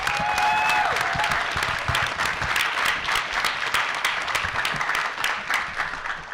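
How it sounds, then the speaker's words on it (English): An audience at a startup pitch competition gives the ten presenting teams a round of applause. Dense, continuous clapping rolls on and tapers slightly toward the end, with a brief high whistle near the beginning. "how about another round of applause for all 10 teams today?"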